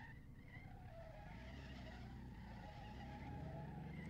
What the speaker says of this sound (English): It's an awful lot of squealing tires back there.